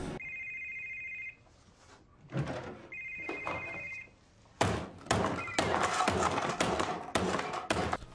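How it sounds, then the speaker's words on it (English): A mobile phone rings with electronic tone bursts, followed by several loud thumps and bangs, with no voices. "I should also probably put my phone on silent."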